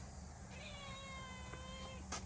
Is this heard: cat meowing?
yes